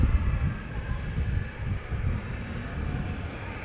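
Ryanair and Jet2 jets departing Manchester Airport, a steady broad distant roar of jet engines rumbling continuously without distinct peaks.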